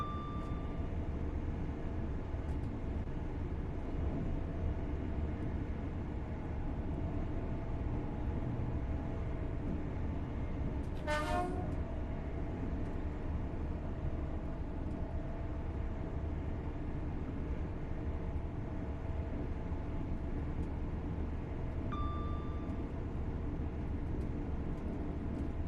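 LNER Azuma electric train coasting in Train Sim World 6, a steady broadband rumble of running gear held level throughout, with a brief high whine sweeping through near the middle and faint tonal beeps near the start and end.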